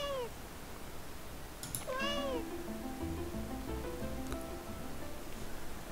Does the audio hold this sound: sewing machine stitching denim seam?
no